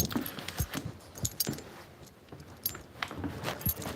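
Keys jangle repeatedly in sharp metallic bursts while a door is being locked, close and fairly loud, with no talk.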